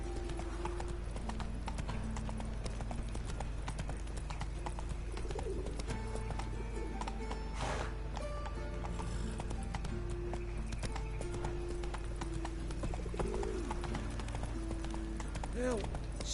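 Horse hooves clip-clop at a steady trot or gallop in The Witcher 3, with birds and doves cooing in the background and voices talking over it.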